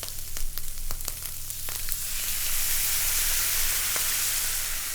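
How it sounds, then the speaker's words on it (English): Barbecue sauce with burnt sugar simmering and reducing in a non-stick pan, a steady close sizzle with scattered pops early on that settles into an even hiss. "So we're just gonna let that simmer for a little bit, let the sauce reduce."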